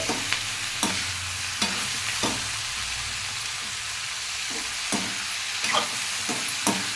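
Tomato pieces fry and get stirred into a fish curry, steady sizzling in a pan punctuated by about nine sharp scraping strokes of a spoon at irregular intervals, close and clear.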